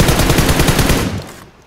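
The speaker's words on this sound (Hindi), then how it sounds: "मैं कवर फायर दे रहा हूँ" Cover fire in PUBG Mobile: a loud, close burst of rapid automatic gunfire with evenly spaced shots, lasting just over a second before cutting off.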